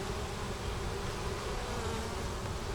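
Dense, steady buzzing of many honey bees around an opened hive that has swarmed, a continuous close hum with no gaps or talking.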